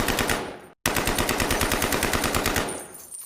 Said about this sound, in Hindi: AK-47 के 30 से ज्यादा राउंड्स फायर करे जाते हैं।